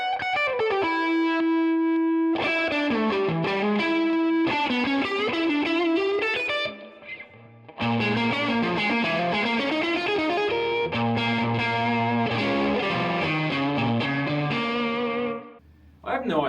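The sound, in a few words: electric guitar with humbucker pickup played through distortion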